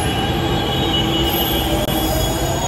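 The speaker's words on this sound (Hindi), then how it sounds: "सही हो गया, मेरी मेट्रो आ गई।" A Delhi metro train pulls into the station, its wheels squealing loudly and steadily over a heavy rumble of rail noise, with no voices over it.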